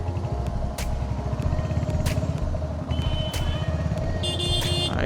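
Road traffic around a moving motorcycle: a continuous low engine rumble with passing vehicles, a few sharp knocks and a high beeping tone toward the end, no talk.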